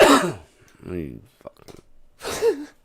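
Someone nearby gives a few rough coughs and throat clears, with short breathy pauses between the bursts.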